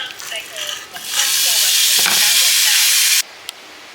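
Meat frying in a pan, a loud continuous sizzle that bursts up after a second and holds steady before cutting off abruptly, preceded by a few faint handling sounds.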